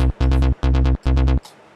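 A buzzy trance synth bass pulses in short, rapid rhythmic bursts, three punchy groups of repeating notes with brief gaps between them.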